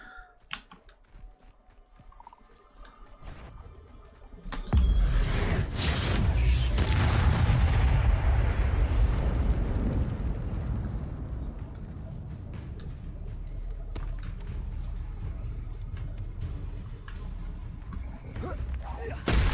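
Spell blasts in the Hogwarts Legacy video game: a sudden heavy boom erupts about five seconds in, then a sustained loud rumbling roar of explosions and combat that slowly settles into a steady noisy din.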